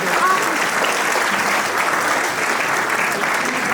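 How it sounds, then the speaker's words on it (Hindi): An audience at a school annual day applauds the Saraswati Vandana performance, sustained hearty clapping from many hands throughout, close and fairly loud. "जोरदार तालियां हमारी सरस्वती वंदना के लिए"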